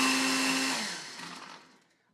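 A blender chops sun-dried tomatoes and a clove of garlic in a short whirring burst. The steady motor whine is loud at first, then slows and fades as it spins down. No one speaks.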